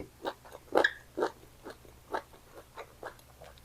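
Crunchy chewing of grilled squid cheeks close to the mic, a series of crisp bites and munches at an irregular pace, with no talking.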